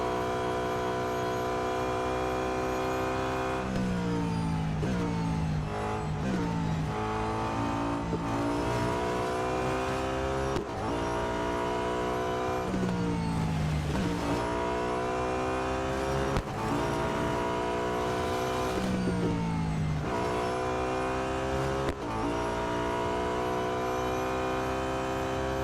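A 2012 Audi A5 DTM race car in the Real Racing 3 game, in need of servicing, drives with a loud, continuous engine note that climbs repeatedly through the revs, with sharp drops at each gear shift and no talking.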